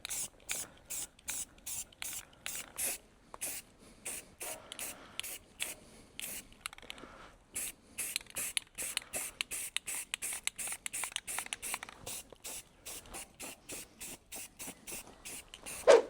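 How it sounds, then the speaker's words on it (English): Repeated short bursts of Rust-Oleum rust reformer sprayed from an aerosol can onto a GMC Sierra Z71 truck fender, dozens of quick hissing puffs in a steady rhythm, close and fairly quiet, with no talking. "I just have this Rust-Oleum rust reformer stuff. I'll spray that on there"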